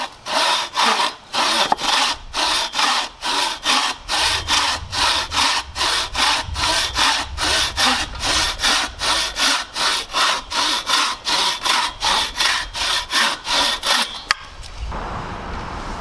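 Wood being cut by hand with a buck saw, in loud, rhythmic back-and-forth strokes close by, about two strokes per second, ending abruptly with quieter rustling afterward.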